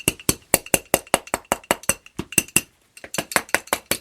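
Repeated sharp metallic clinks from a metal wrench striking a heavy-duty mask, about eighteen quick, loud strikes in a steady rhythm with one brief pause near the end, no talking.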